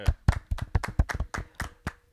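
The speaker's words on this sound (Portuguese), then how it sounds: "uma salva de palmas pra vocês" A small group claps on the set of a Portuguese-language podcast. The claps are close and individually distinct, forming a short, uneven burst of sharp, separate hand slaps with no talking.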